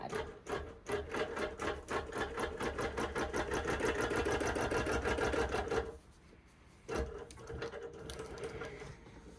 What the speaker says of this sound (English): I'm going to baste down this side.